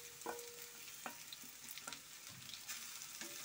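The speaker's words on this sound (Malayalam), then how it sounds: "നല്ലപോലെ ഇളക്കി യോജിപ്പിച്ച് കൊടുക്കണം." Sweet mango curry being stirred in a hot pan, a soft continuous sizzle broken by irregular spoon scrapes and taps against the pan, close and quiet with no voices.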